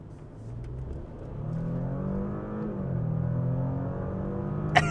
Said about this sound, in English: it is a real distinguished V6 turbo sound, which you just do not get on the regular e-tron